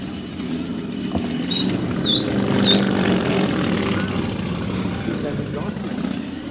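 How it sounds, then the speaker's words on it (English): Loud, rumbling exhaust of an old car idling nearby in a town street, a steady low drone through the whole stretch with a few faint chirps above it. "That exhaust is awesome."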